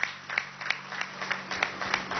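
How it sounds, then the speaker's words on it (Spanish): Crowd applause at a Venezuelan political rally, a steady patter of many hands clapping with sharp repeated peaks, fairly faint and distant, with no talk over it. "Aquí te están dando un aplauso, Nelson Moreno."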